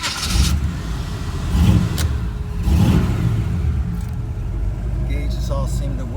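A 1974 Chevrolet Nova engine fires up and revs, rumbling loudly in repeated surges, with people talking over the running engine.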